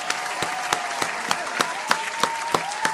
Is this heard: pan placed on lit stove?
no